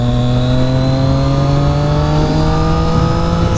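A 2017 675R motorcycle fitted with an aftermarket Aero exhaust revs steadily and loudly up close, its engine note holding with rising harmonics throughout, with no talking.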